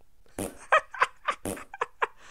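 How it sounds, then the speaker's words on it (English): Fart sound effects from the Minecraft EvilCraft mod, a rapid string of about eight short, squelchy bursts close up and loud, with no talk over them. "If you press P, farting is enabled."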